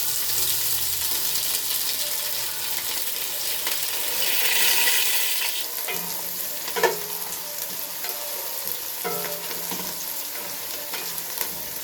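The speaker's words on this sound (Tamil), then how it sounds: "அதெல்லாம் பொரிய விடலாம்." Onions sizzle steadily in hot oil, with occasional scraping and stirring clatters against the pan, close and continuous.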